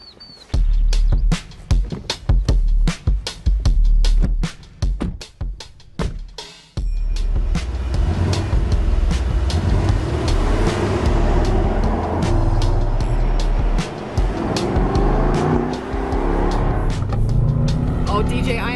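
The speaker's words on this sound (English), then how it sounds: "the sound comes from our V8 twin turbo engine" A 2021 Mercedes-AMG E63 twin-turbo V8 engine revs and rumbles loudly at close range, after a stretch of clicks and knocks, then settles into a continuous deep drone as the car drives.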